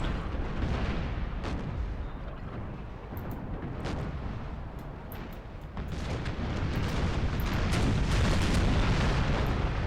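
Ship cannons fire chain shot during a naval battle in Empire: Total War, a dense, loud stream of overlapping booms and rumbling blasts with sharper reports scattered throughout.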